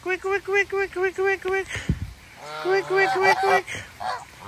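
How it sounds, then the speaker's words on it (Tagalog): Geese at a farm near a fish pond and fountain honk in a steady run of rhythmic calls, close and loud, with a brief pause and a person speaking a word between bursts before the honking resumes. "Ay, ayun, may nakita ako mga gansa."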